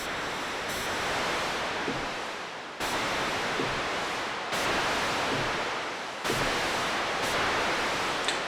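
Synthesizer noise pushed through distortion and drive gives a rushing, water-like hiss in four sustained bursts, each cut off and restarted with a sharp jump in level.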